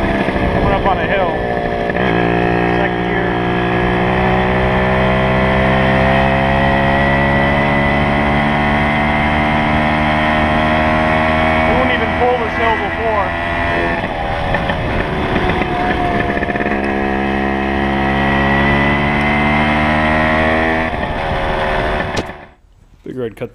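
Yamaha PW80 two-stroke dirt bike engine climbing a hill with an upgraded carburetor, a loud, close, steady buzzing drone that rises and falls in pitch with throttle over about twenty seconds before cutting off abruptly.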